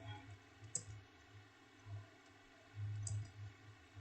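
A computer keyboard key pressed, with a couple of faint isolated clicks over a low, quiet background hum.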